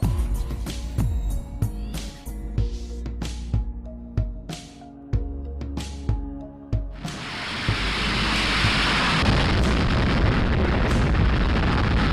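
Weapons fire in a string of sharp, close blasts and booms spaced a second or so apart, then give way to a sustained rushing roar that fills the rest of the scene.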